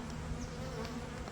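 Bees fly around a glass hive, a dense, continuous buzzing swarm close by and fairly loud, with no voices.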